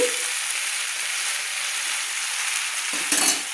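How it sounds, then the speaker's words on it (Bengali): Khosla greens frying in a pan with a continuous hissing sizzle as they are stirred, a brief clatter of utensil against pan near the end. "অল্প অল্প শাক দিয়ে আমি সুন্দর করে নেড়ে নিচ্ছি"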